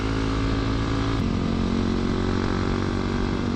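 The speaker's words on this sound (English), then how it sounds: "Somebody's got a dirt bike there." A dirt bike engine runs steadily and loud nearby throughout, a dense continuous drone with no clear revving or pauses.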